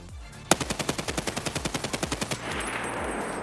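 An SA58 rifle fires in the video game Escape from Tarkov, a loud, close full-auto burst of about sixteen evenly spaced shots, followed by a brief ringing tail.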